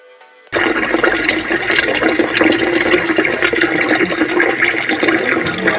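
Water gushes steadily into an 8 litre container, beginning abruptly after a brief quiet moment and continuing as a loud, dense rush of pouring liquid until the end.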